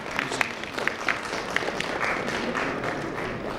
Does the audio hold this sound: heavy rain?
no